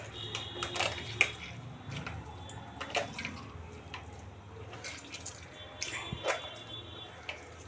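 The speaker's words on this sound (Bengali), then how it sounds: "তো জলটা ঝরতে দিলাম। একটু চিপে চিপে জলটা বার করে নিতে হবে।" Minced meat, just washed, being squeezed by hand to press out the water, with soft wet squelches and scattered drips falling at an uneven rhythm, fairly quiet and close, no talking.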